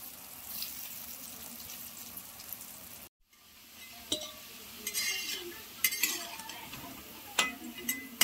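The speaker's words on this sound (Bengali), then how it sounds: "তো চলো আমি আস্তে আস্তে একটা একটা করে ভেজে নিই এগুলোকে।" Dhoka lentil cakes frying in hot oil, a soft steady sizzle broken by a brief silence, then louder clinks and scrapes as they are stirred and turned, heard close without talk.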